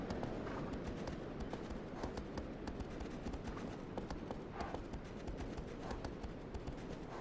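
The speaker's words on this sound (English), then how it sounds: "cinematic moments where the horse is on auto run" Horse hooves gallop in a steady, fast clip-clop rhythm across open ground in the video game Shadow of the Colossus, loud and continuous, with wind and ambient game noise underneath.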